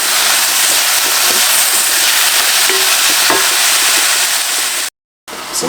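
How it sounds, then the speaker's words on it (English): Vegetables with tomato and fresh thyme stirred in a pot, a loud steady sizzle close up with a few faint spoon knocks, cut by a short silent gap near the end. "Now we're going to give it a stir."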